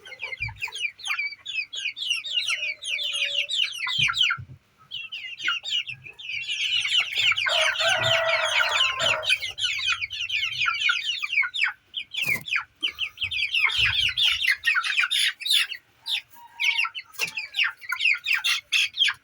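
A flock of chickens clucks and squawks continuously, a dense, busy chatter of many birds close by, with occasional sharp clicks and knocks.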